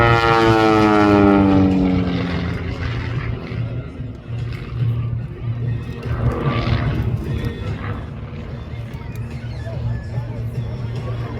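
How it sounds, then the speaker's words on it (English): Red Pitts S1 aerobatic biplane climbing straight up at a Southern California airshow, its propeller engine note rising in pitch and then fading into a steadier drone while an announcer talks over it. "The beautiful red Pitts aircraft going straight up"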